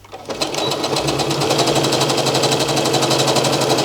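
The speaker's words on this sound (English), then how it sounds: "put the stitch length at the longest setting and just make a 1 centimeter seam allowance" A sewing machine runs steadily at its longest stitch length, stitching a seam with a 1 centimeter allowance on a shirred top; a close, loud, continuous rhythmic whir with fast repeating needle pulses.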